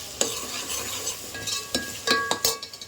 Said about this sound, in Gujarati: ફ્લેમ થોડી ફાસ્ટ રાખવાની છે ડુંગળી સતડાઈ